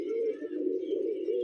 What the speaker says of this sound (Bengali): এই অমিতের লাল একজোড়া কবুতর